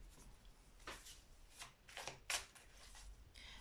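Tarot cards are drawn and shuffled by hand, soft riffling swishes and light slaps coming in short irregular bursts, close and quiet.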